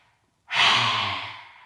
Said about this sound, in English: let's do a nice lion's breath